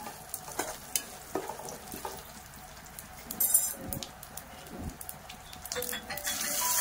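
Tempering with asafoetida is stirred in a pan for pulihora as tamarind juice goes in, giving soft scraping stirs over a steady low sizzle, close and moderately quiet, with no one speaking.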